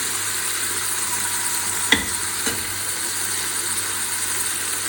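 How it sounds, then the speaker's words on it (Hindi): Tomatoes and other vegetables for a carrot, potato and fenugreek sabzi sizzling lightly in oil, a steady soft hiss with two brief clinks of stirring. "हल्का सा मैंने इनको जो है वो ऑयल में भून लिया है"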